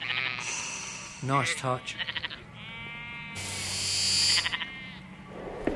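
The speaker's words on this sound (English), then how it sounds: "A small herd of sheep amble past." Several bleats from a small herd of sheep in a green meadow on a clear day, short wavering calls coming in bursts while a voice speaks over them.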